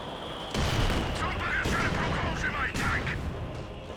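Mortar shells strike in a Company of Heroes 2 match, a dense, continuous barrage of booming impacts and gunfire-like cracks with a sharp onset partway through, loud and sustained under a steady battle din.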